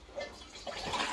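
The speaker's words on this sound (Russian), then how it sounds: "Здесь мы заливаем уже последние литры." Last litres of wine must being poured into a fermenting vessel in a cellar, a faint, steady, soft gurgling flow heard alone.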